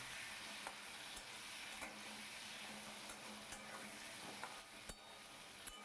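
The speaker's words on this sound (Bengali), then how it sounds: "ভালো করে ওপর নিচ নাড়াচাড়া করে আলুটাকে আমি ভেজে নেব" Diced potatoes with salt and turmeric fry in hot oil and are stirred in the pan, a quiet, even sizzle with soft scraping stirs, heard close and with no talking.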